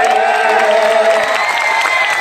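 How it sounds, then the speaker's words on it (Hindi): Loud crowd applause with cheering and whoops at a Hindi poetry recital, a dense, steady wash of clapping that fills the whole moment. "इस पे तो आपने बड़ी ताली पहले से बजा रखी है"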